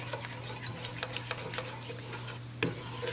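Homemade play dough mixture being stirred in a pot on the stove, soft scraping and rubbing strokes in a steady rhythm over a low constant hum, fairly faint.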